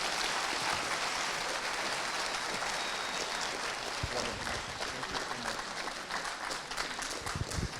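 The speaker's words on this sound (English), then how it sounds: "One more round of applause" A school-district audience at an inspirational speakers event claps for speakers. The applause is a dense, sustained crowd patter that holds at an even, moderately loud level for nearly eight seconds.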